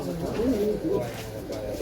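Bega pigeons in a loft giving soft, low coos, a few rolling calls close by with a voice talking over them.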